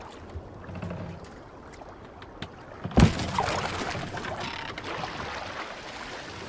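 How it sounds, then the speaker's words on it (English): Oars pulling a longboat through water in Assassin's Creed Valhalla, a soft wash of water that swells into a louder splash and surge partway through, then keeps flowing steadily. "We need to row our way out."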